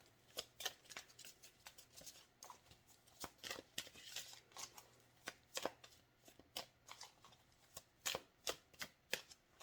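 Tarot deck being shuffled by hand, a long series of sharp, close card riffles and slaps in an uneven but steady rhythm, quiet overall with no talking.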